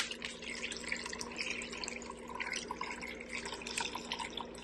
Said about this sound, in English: this oil through this strainer.